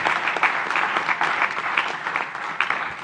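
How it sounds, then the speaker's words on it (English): A crowd claps steadily for the class of 2024 graduates at the 48th annual commencement ceremony, a dense, even applause that lasts about three seconds with no voices. "let's just give them a round of applause"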